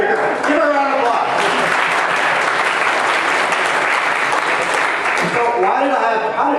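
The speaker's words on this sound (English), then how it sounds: "Give her a round of applause." Sustained audience applause fills a hall during a leadership event presentation, loud and steady for several seconds with voices faintly under it.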